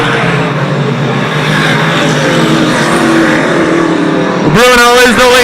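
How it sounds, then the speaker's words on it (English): Race cars lapping a track during a 2008 race, engines droning loudly and continuously under a commentator's talk, with a sharp rising revving whine as a car passes close near the end. "Mike Bruno coming up on some slower cars."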